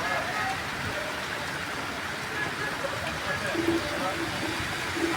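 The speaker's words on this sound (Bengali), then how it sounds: "এই যে দেখেন অনেক বৃষ্টি হচ্ছে।" Steady heavy rain hisses in a dense, even wash of sound on a street with rickshaws, with a faint low rumble beneath and no distinct voices.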